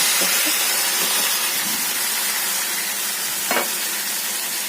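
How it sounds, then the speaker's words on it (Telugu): Boiled amaranth leaves and moong dal added to a pan of tempering, with a steady loud sizzle and hiss throughout and a few soft stirring scrapes. "ఇలా పోపు వేగిన తర్వాత మనం ముందుగా ఉడకబెట్టుకున్నటువంటి తోటకూర పెసరపప్పు ఇందులో వేసేది"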